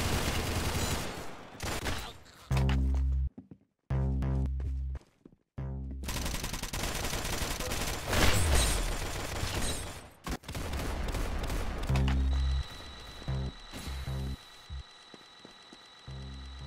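Gunfire in the Roblox shooter Arsenal: loud, dense bursts of rapid shots broken by brief silences, with sustained fusillades through the middle and sharper scattered shots toward the end.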